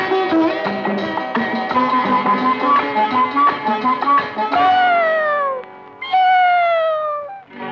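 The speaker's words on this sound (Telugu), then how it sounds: "అందాల ఓ పిల్లి అరవకే నా తల్లి" A cat meows loudly several times, drawn-out, wavering cries that rise and fall, heard within an old Telugu film song with musical accompaniment.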